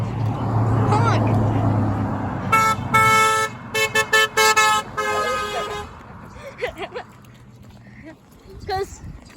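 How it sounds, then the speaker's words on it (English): Car horns honked by passing cars on a roadside, several bright toots in a short cluster mid-clip with traffic noise before and a few brief honks after, people talking between. "Please, honk. Honk."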